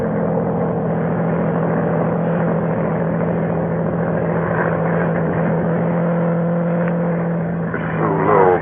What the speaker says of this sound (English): a monoplane was climbing into the heavens